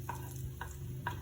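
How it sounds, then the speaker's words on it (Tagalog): Garlic being stirred in a pan as it sautés, in the start of a Filipino dish of sponge gourd with misua and crab: a low steady sizzle with three soft scraping stirs, fairly quiet, no talk. "lagyan natin itong bawang. Haluin lang natin"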